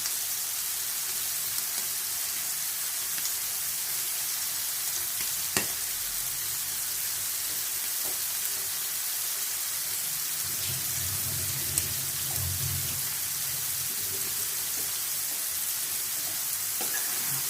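Fish fries in a pan, with a steady, even hiss of oil that holds throughout, joined by a few faint utensil ticks and a brief low rumble midway, close and fairly loud, without speech.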